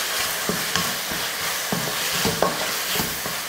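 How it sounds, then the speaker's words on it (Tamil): Ground paste is stirred into mushrooms frying in a pan, a steady sizzle running throughout with repeated scraping knocks of the spoon against the pan at an uneven rhythm. "இந்த பேஸ்ட்டை போட்டு கலந்துடலாம்."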